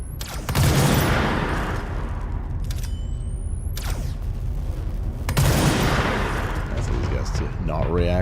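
Video game gunfire rattles out in heavy bursts, with several loud volleys breaking over a dense, rumbling combat backdrop and a voice talking at times underneath.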